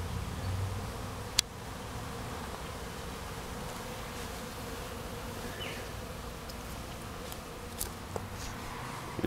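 Honeybees swarm around a newly installed hive, making a continuous soft buzzing that stays steady throughout, with a few faint clicks and small knocks nearby.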